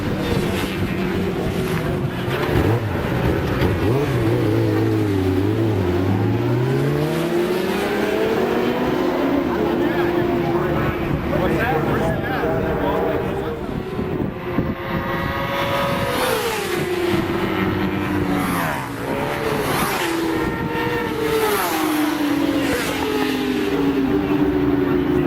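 A racing motorcycle on a track, its engine note rising and falling as it shifts through the gears and passes, loud and continuous with sweeping pitch changes, under a narrator's voice.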